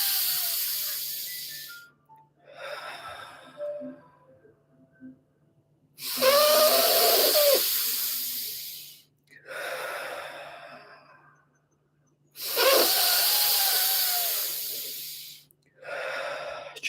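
Slow, deep breathing exercise: long forceful inhales and exhales alternate in repeated cycles, close and loud, with quiet pauses between breaths.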